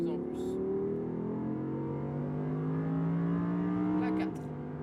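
An Audi R8 accelerates hard around the Maison Blanche section of the Le Mans circuit, its close engine drone climbing steadily in pitch for several seconds, then dropping briefly near the end as it shifts.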